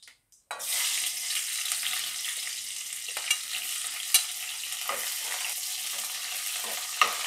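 Chopped spring onion dropped into a hot cumin and mustard seed tempering for Bhogi bhaji, bursting into a loud, steady sizzle after a quiet start, with a few light clicks of stirring.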